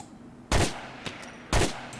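Two loud, sharp sniper rifle shots about a second apart in GTA: The Ballad of Gay Tony, each one close and booming with a short tail, plus a fainter pop between them.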